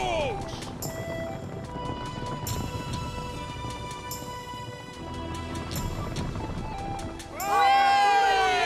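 Horses whinny and gallop in an animated episode, hoofbeats running under music and voices, with a loud, close neigh rising at the end.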